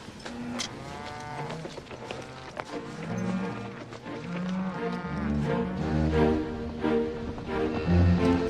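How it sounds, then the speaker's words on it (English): Cattle moo repeatedly at close range, several overlapping bellowing calls building louder over a steady background of movement and hoofbeats. "Cows got away from me."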